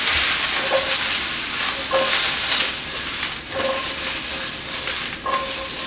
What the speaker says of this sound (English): we're just gonna put some salt on the mushrooms. Toss them around a little bit.